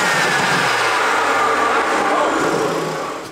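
A BMW F30 328i engine roars steadily with intake noise, loud and close, holding a constant broadband drone that eases slightly near the end.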